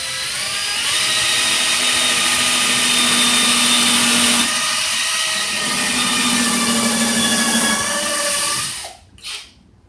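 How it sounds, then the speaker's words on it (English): A power drill runs steadily at high speed for several seconds while drilling at an angle during boat work, a whining motor tone that holds, dips briefly, then cuts off near the end. "I'm going to slowly bring the drill down to the angle that I want."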